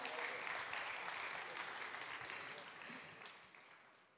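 Steady applause from a crowd at a woodworking industry event, for performers on stilts, fills the space, starting loud and gradually fading over a few seconds.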